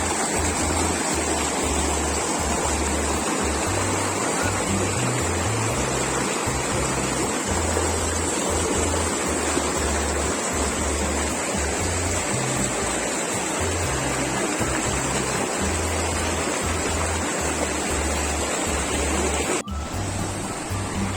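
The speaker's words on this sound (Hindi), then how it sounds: "बहुत तेज बहाव है नदी का, लेकिन बहुत ही शुद्ध साफ जल है इसका।" A fast-flowing, clear mountain river at Pahalgam rushes in a loud, steady roar of churning water that stays constant throughout, with no voices.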